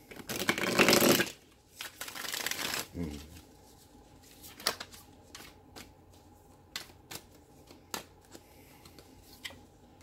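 Tarot cards get shuffled with two dense, riffling bursts near the start, then scattered soft taps and card snaps in a quiet room while a voice speaks faintly.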